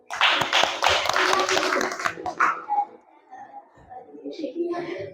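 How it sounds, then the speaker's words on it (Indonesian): A class bursts into about two seconds of dense, close applause that then stops abruptly, followed by a few scattered sounds and people talking. "Tepuk tangan dulu untuk kita semua"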